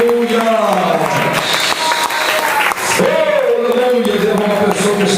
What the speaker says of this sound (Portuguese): Quem pode ver Jerusalém pode aplaudir o Senhor, pode aplaudir o Senhor